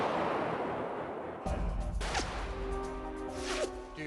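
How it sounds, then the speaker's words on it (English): A rifle fired from a gun rest outdoors gives one sudden loud report partway through, followed by a lingering rumble and trailing noise, with no talking. "Seating the gun rest. Firing in 3,"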